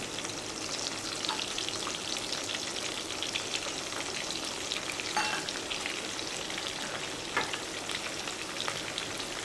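Seeds crackling and sizzling in hot oil, a dense continuous fizz like steady rain, close and even, with occasional sharper pops.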